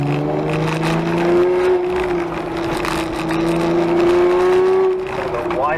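A car's engine drones steadily on a wet autocross course, holding a fairly even pitch with slight swells as the throttle is fed. It climbs in revs near the end.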